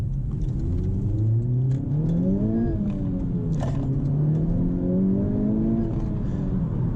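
A 2021 Honda Civic Type R accelerating hard, engine tone climbing through the revs with a brief dip at a gear change, then rising again, heard from inside the car over steady road rumble.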